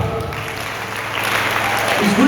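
A church congregation claps in response during a sermon, a continuous crowd of hands that grows slightly louder toward the end, with a voice briefly rising over it at the close.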